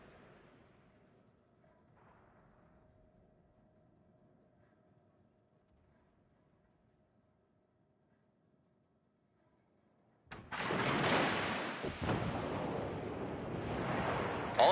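Warship gunfire in World of Warships: after a long quiet stretch with a faint hum, a sudden heavy salvo erupts and rumbles on for several seconds, loud and close.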